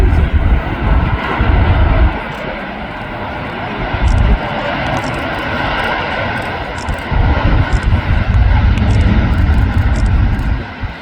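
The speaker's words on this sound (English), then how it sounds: "So as the PIA 777 taxis in" A PIA Boeing 777 airliner taxiing at Manchester Airport, its engines a loud, steady roar and whine with low rumble and wind buffeting throughout.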